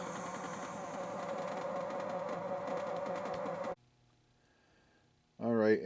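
Faulty car engine sound from a 1976 Exidy Death Race arcade game, a steady buzzing drone with a rattling texture that cuts off abruptly, leaving near silence before a brief warbling electronic tone.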